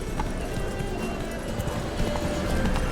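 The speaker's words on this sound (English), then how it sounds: "Come on, Witcher! Hop in the saddle! Gotta catch it! Come on, Roach." Roach, Geralt's horse in The Witcher 3, gallops with steady, close hoofbeats under a continuous bed of game music and ambience, the clip-clop rhythm running unbroken throughout.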